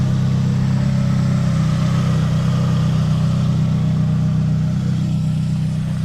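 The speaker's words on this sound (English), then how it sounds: "you can just see this engine just purrs" A 2001 Saab 9-3 Viggen engine idles smoothly and steadily with a low, even hum, close by and continuous throughout, with no talking.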